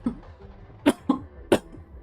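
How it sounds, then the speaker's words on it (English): A game character coughs three times, harsh and close, with short pauses between bursts and quiet background otherwise. "you're coughing up blood"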